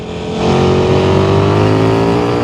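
A KTM Super Duke 1390 R EVO motorcycle accelerating hard in third gear at about half throttle, its engine note rising from a lower rumble into a loud, steady, climbing drone heard close up.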